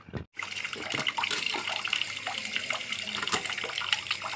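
Water pours steadily into a pot while a mustard fish curry cooks in an Odisha home kitchen, a continuous close splashing flow with brief clatters mixed in.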